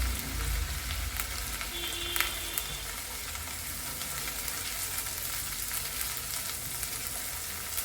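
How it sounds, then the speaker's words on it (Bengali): Onion paste and ginger-garlic paste sautéing in a pan for a country-chicken egg korma, a steady close sizzle and crackle that runs evenly throughout, with no voice. "এগুলোকে ভালোভাবে কষিয়ে নিব যতক্ষণ পর্যন্ত না পেঁয়াজ আদা রসুনের কাঁচা গন্ধটা দূর হয়"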